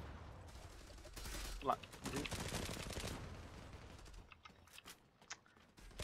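Bursts of automatic gunfire aimed at a reloading player in the online shooter Zula, a loud rapid volley that fades into scattered fainter shots, with a player talking briefly.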